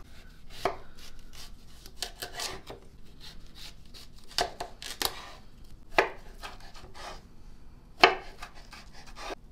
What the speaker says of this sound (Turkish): Bu şekilde küp küp doğrayacağız.